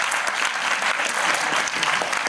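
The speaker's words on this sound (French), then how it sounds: "Vous pouvez l'applaudir." A film-screening audience bursts into dense, loud applause, a continuous wash of many hands clapping at once throughout.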